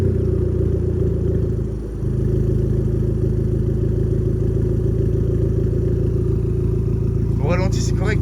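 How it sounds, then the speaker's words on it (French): An Abarth car engine idles with a steady low rumble close by, with a brief dip near the start and a short voice at the end. "le bruit de la voiture est vraiment sympa"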